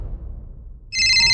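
A telephone rings with a single loud, bright electronic trill that starts abruptly after a moment of low background rumble and continues steadily to the end.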